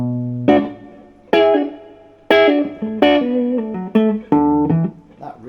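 Vox AC30 valve amplifier on the normal channel with its built-in spring reverb, clean guitar chords struck one after another, each ringing out with a lush reverberant tail, close and alone with no talk.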